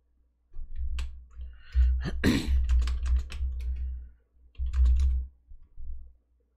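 Computer keyboard typing on a chess commentary stream, with close, loud bursts of rapid key clicks in clusters separated by short pauses.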